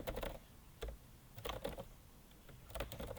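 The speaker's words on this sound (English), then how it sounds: "Now I have typed something." Typing on a computer keyboard in short bursts of quick, fairly soft key clicks, separated by brief pauses, close by and with no speech.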